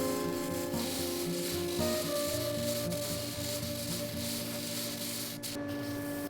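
Steady abrasive sanding of a resin dragon egg with a drill-mounted sanding disc runs throughout over a constant motor whine, a continuous gritty rasp with little change in level.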